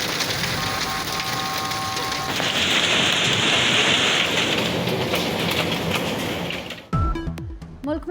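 Rain falls steadily in the hill town of Murree, a dense even hiss that swells slightly midway, with brief tonal sounds early on and an abrupt cut to other noises near the end.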